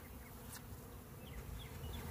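A steady low drone of honey bees buzzing around an open hive with a feeder, with a few individual bees zipping past nearby over the continuous hum.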